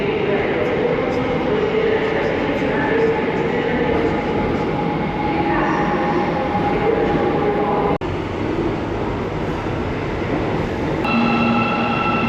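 Metro train in Almaty, Kazakhstan, running with a loud, continuous rumble and rattle of wagons on the rails, broken by a brief clunk and a few tonal whines near the end.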